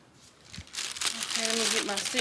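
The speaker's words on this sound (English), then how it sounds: "let me get my scissors and open this up." A plastic tulip bulb package crinkles and crackles loudly up close as scissors cut it open, with a voice speaking quietly underneath.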